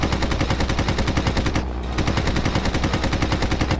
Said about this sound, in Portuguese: Já vou atirar no Zeppelin.